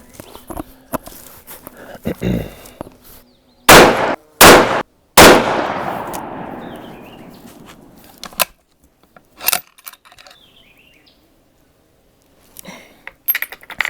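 Rifle shots from a .308 firing IMR 4064 handloads with 168gr Hornady BTHP bullets, several loud sharp reports with a ringing decay outdoors, separated by quiet gaps and small handling noises.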